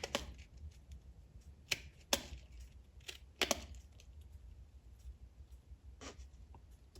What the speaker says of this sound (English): all I gotta do is take the scissors and cut along the lines